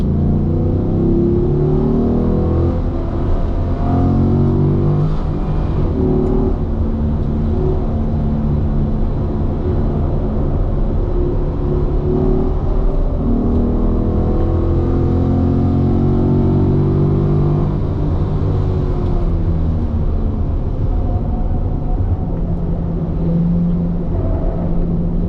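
A Corvette laps a race track at a driving school, its engine droning and rising and falling through gears in a continuous loud rumble, heard from inside the car with no talk.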